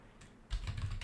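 Keys clatter on a computer keyboard, a faint quick run of soft taps that grows busier in the second half.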